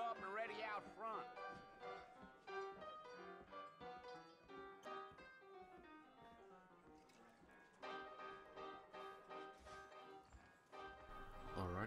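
Horses clip-clop on the trail in Red Dead Redemption, in New Austin, a steady run of hoof beats mixed under music with faint bell-like tones.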